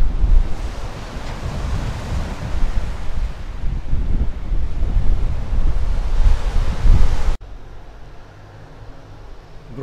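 Black Sea surf washing onto the beach at Alushta, a steady loud roar of breaking waves mixed with wind buffeting the microphone, then quieter and farther off in the final seconds.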